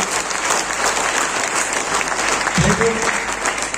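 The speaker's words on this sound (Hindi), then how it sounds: "राजकुमार सर, विष्णु सर के लिए तालियां जोड़ा, तालियां चाहिए।" An audience at a gathering applauds two leaders, Rajkumar and Vishnu, with loud, sustained clapping that fills the room, while a voice cuts in briefly near the end.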